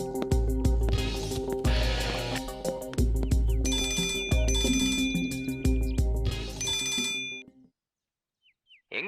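A mobile phone ringtone plays loudly and repeatedly as an unanswered call rings on, its bright melodic tone cycling several times before stopping abruptly into near silence.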